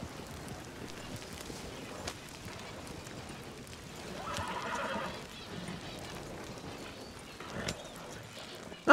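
Horses whinny and snort now and then in Red Dead Redemption 2, with faint hoof clip-clop and soft ambient noise around them, the loudest neigh rising briefly midway before a sudden louder sound at the very end.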